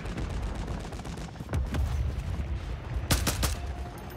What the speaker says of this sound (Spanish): no has visto esos disparos